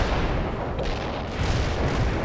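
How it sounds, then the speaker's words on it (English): An artillery barrage in the game World in Conflict: a dense, continuous roar of overlapping booms and rumbling blasts, loud and unbroken for the whole stretch. "Artillery strike. On the yes, товарищ командир. Launching a barrage."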